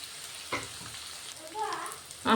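Ginger, garlic and turmeric frying in a pan while being stirred, with a soft sizzle, a few scraping knocks of the spoon, and a louder burst of stirring at the end, close by.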